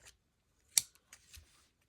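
A few quiet, sharp metallic snips of pinking shears, one crisp cut followed by a couple of softer ones in a quiet room.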